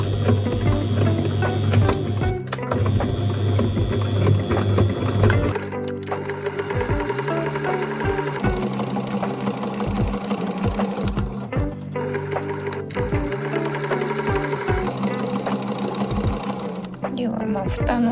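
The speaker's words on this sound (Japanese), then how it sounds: "5ミリのところを上からステッチしていきます。" A sewing machine runs a 5 mm topstitch seam on a homemade fabric toilet paper holder, a loud fast mechanical whir in long bursts with brief pauses between runs, with a voice speaking at times over it.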